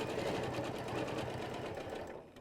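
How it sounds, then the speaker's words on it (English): A sewing machine stitches a quilt along a ruler template, running in a fast, even whir before slowing and stopping at the very end. "sew down to the next corner of the box"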